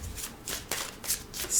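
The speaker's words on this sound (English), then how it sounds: "like keep shuffling" Tarot cards are shuffled in quick rustling bursts, close and crisp, with a few rapid riffles in a brief stretch and no talk.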